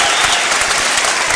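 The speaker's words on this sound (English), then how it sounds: "round of applause, standing O," Sustained crowd applause fills a high school boys' basketball gym as the audience gives a standing ovation, dense, loud clapping with no break.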